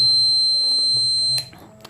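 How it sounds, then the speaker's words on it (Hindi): A burglar security alarm built as an engineering project and triggered by a light sensor, sounding as a steady high-pitched electronic tone that holds loudly for over a second and then cuts off, leaving quiet room noise. "इस घर के सारे सिक्योरिटी अलार्म्स एक्टिवेट हो जाएंगे"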